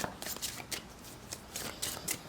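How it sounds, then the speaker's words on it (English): Tarot cards are shuffled by hand in a series of quick papery riffles and soft flutters. They come in close, irregular bursts with no talking. "I'm just going to shuffle cards while I talk"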